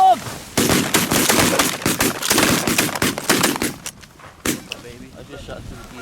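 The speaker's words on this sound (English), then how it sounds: "I just shot some geese." Shotgun blasts from a goose hunt in a Minnesota snowstorm, a rapid volley of about a dozen loud, close shots in the first four seconds, then a final isolated report and quieter rustling.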